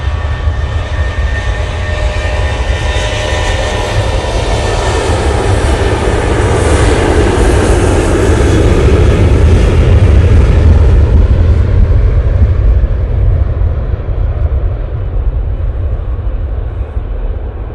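An Etihad airliner at Manchester Airport produces a loud, continuous jet engine roar that builds gradually and then thins out near the end, with no voices over it.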